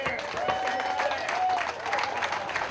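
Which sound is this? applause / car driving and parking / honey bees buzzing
applause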